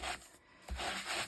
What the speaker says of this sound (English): this is an old Stampin' Up sanding block